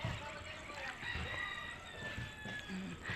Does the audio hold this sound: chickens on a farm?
yes